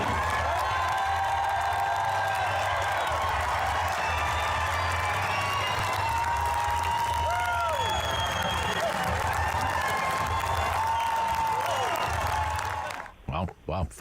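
A large crowd of about 5,000 applauds and cheers at a Pierre Poilievre political rally, steady loud clapping and whoops with voices mixed in throughout, cutting off abruptly near the end.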